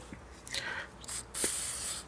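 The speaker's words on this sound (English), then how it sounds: "let me get some silicone spray" Silicone spray from an aerosol can hisses onto car hoses in a Lexus engine bay, a few short bursts and then one longer spray, close up with no talk.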